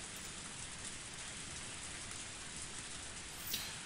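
Torrential rain pours steadily in the visual novel Higurashi When They Cry, a dense, even hiss of downpour that fills the whole clip, faint and unbroken with no voices.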